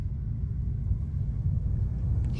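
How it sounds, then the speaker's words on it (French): Low, steady storm rumble from the video game Life is Strange, a continuous deep drone that holds evenly throughout with no voices over it. "Je crois que c'est l'heure de la tempête."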